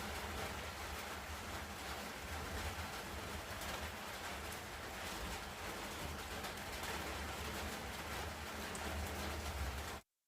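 Steady rain hisses continuously, a dense even wash of falling water with no voices, holding at a constant level throughout.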